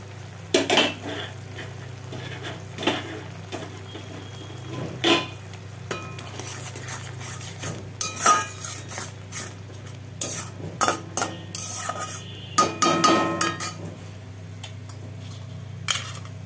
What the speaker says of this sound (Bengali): এখন ভালো করে আমি কষিয়ে নেব। আদাটা গ্রেট করে রাখা ছিল, আমি আদাটা দিয়ে দিলাম।